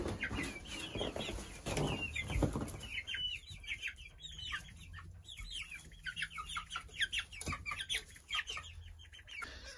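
On a snowy farm, a group of chickens cluck, giving many short, close, repeated calls in an irregular chorus. Scuffling and rustling nearby sound louder at the start.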